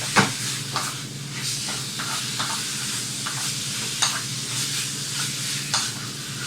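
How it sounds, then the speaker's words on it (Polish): Steady sizzling of kebab meat frying in a pan, with occasional sharper pops and spatters rising above the continuous hiss. "Smażymy."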